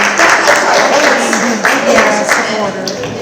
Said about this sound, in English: So everybody please give them a round of applause and welcome them